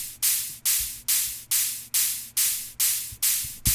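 Crisp dubstep hi-hat samples, panned one left and one right, strike eight times in an even rhythm, each a bright hissy burst that decays quickly, with a faint low tone beneath.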